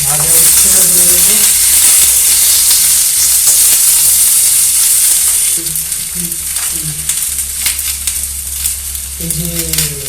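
Fried bitter gourd sizzles and crackles steadily in hot oil as it is stirred in a pan for a Bengali shukto dish, loud and close, with the frying hiss softening slightly partway through.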